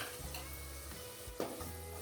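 Spices frying in oil in a pan for a spinach and potato palak gravy, a faint steady sizzle with a soft stir or scrape near the middle, no voices.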